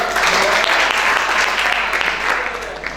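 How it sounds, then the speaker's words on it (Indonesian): A church congregation at a worship service claps together for a returning member, a thick, loud, sustained wash of many hands that holds steady and tapers slightly near the end. "kita beri tepuk tangan dulu"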